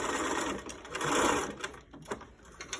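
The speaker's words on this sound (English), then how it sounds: "I'm going to turn my sewing machine on to zigzag stitch, and I'm going to carefully zigzag stitch the wire" A home sewing machine runs a zigzag stitch, sewing a wire into the seam allowance of a fabric mask, giving a steady close whirring motor hum that swells in the middle and is broken by a few short pauses and clicks.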